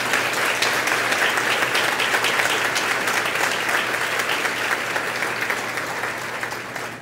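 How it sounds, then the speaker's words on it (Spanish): A large crowd at a question-and-answer event with a Catholic priest in Maracaibo breaks into sustained applause, a thick, even roar of clapping that continues at full strength and only slightly tapers near the end. "aplauso nuevamente."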